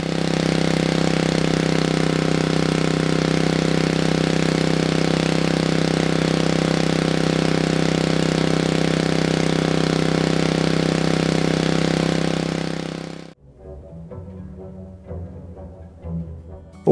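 An engine fitted with a Thunderstorm Generator retrofit runs at a loud, steady drone for about thirteen seconds, then cuts out, leaving faint low rumbling and small clicks.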